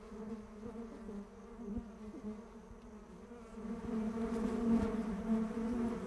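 Stingless bees in a wooden hive box, with food pots and brood cells, make a steady, close buzzing drone that swells slightly louder toward the end, with no voices.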